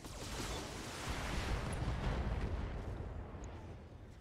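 Mech weapons fire in the BattleTech video game, a faint, continuous rumbling barrage of explosive blasts that swells and slowly fades, with no talking.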